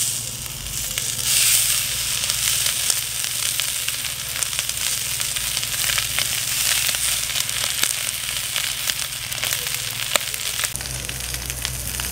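Kokoreç frying in a pan set over a charcoal grill gives a steady, close crackling sizzle with scattered sharp pops, running continuously with no voices.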